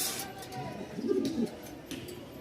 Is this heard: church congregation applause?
no